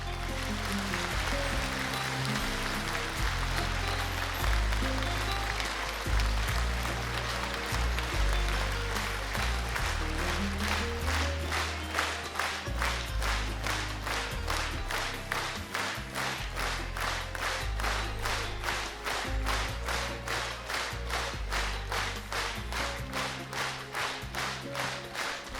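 Concert hall audience applauding in memory of folk artist Alexandra Kulikova, sustained dense clapping that settles into rhythmic unison beats, with music playing underneath.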